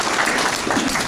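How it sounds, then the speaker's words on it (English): Crowd applause at a high school sports banquet, a short dense patch of clapping that stays steady and fairly loud throughout. "I want to give a round of applause for them."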